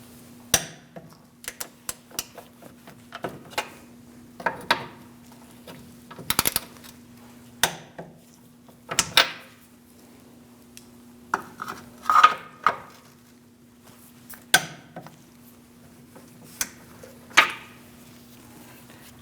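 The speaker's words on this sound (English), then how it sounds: "I'm going to be torquing these 3 to 64 foot-pounds" Engine mount bolts on a 2002-2006 Toyota Camry are torqued with a torque wrench, giving a series of sharp metallic clicks and clanks, some spaced and some in quick bursts, close and loud against a quiet background hum.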